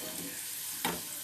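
Fish roe frying in a pan gives a steady, close sizzle throughout, with a short louder burst of stirring near the end.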